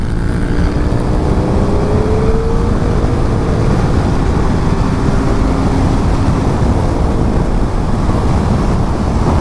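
A KTM Super Adventure 1290 S motorcycle runs at high speed, its engine drone dense and steady beneath heavy, constant wind rush from start to finish.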